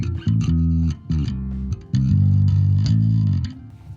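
A bass guitar through a small valve pedalboard plays a short clean-toned riff, with distinct plucked notes and a smooth, undistorted low sound.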